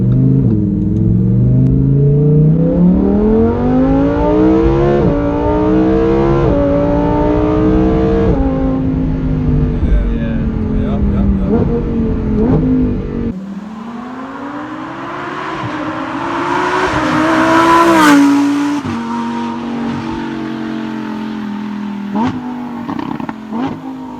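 A Lamborghini Huracan Performante revs loudly in Corsa mode. The engine note climbs in long sweeping pulls, drops away, then surges again to a peak before settling.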